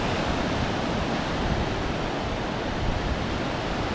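Rough sea waves make a continuous loud broadband roar of surf and churning water, steady for the whole stretch, with no voices.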